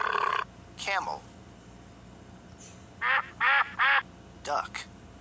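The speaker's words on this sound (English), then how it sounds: "Duck." Duck quacking from a toddler animal picture book game, several loud nasal quacks in short bursts with gaps, mixed with other brief sound effects.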